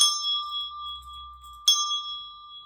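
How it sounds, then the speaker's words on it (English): A bell is struck twice: one clear ringing tone that fades slowly, then a second sharp strike that rings on, both close and bright, with nothing else heard. "Let's ring that bell"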